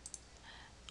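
Faint, quick computer mouse left clicks, a couple of sharp ticks near the start and another at the end, isolated over quiet room tone.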